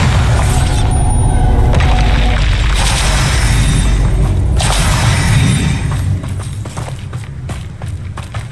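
Bombarda blasting spell detonations in Hogwarts Legacy boom heavily and continuously, close and loud, with crumbling, rattling debris and scattered footstep-like clatter that thins out toward the end.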